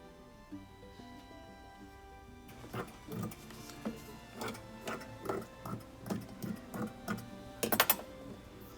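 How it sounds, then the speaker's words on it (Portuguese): Scissors cut through folded fabric for a party dress, making a steady series of crisp snips that repeat through the second half after a quieter start, each stroke sharp and close with no talking. "Risquei e aí eu vou cortar."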